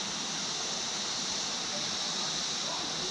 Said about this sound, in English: we're looking at this river right now